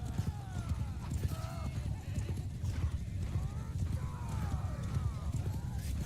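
Horse hooves clip-clopping at a gallop in the video game Bannerlord, running as a dense, continuous rhythm under battle noise and shouts.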